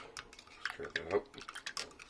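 A spoon stirring creamer into instant coffee from a 2014 Canadian military ration pack, faint light clinks and scrapes against the container in an uneven sequence.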